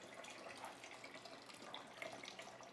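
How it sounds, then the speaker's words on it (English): Tap water runs steadily into a stock pot in a home kitchen, a continuous even splashing hiss with no voices over it. "The water you hear, we're filling up our stock pot, so we can have just some nice chicken stock in the background."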